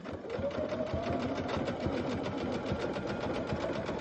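Sewing machine running steadily through a double zigzag stitch on a fabric jellyroll basket, a close, continuous rapid mechanical whir with fine needle pulses and no talk.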